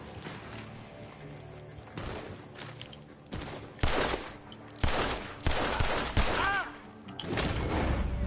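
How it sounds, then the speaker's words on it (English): Gunfire rings out from a barn in Red Dead Redemption 2, a steady string of loud, close shots and thuds over tense in-game music, with brief voices. "The gunshots are coming from that barn."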